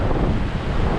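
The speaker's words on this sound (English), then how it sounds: "There's a waterfall there." A waterfall pours nearby with spray and gusting wind, a loud dense continuous rush and roar buffeting the microphone throughout.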